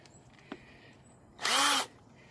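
A short burst of a power drill whirring for about half a second on a 1977 Camaro, fairly loud against a quiet background, after a faint tap.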